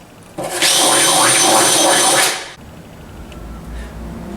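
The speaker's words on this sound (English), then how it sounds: "Just run your drill bit through from the top and wiggle it around a little bit to knock the burrs off" A power drill whirs loudly for about two seconds with a grinding, scraping edge as the bit deburrs a bolt hole in a go-kart seat, then stops.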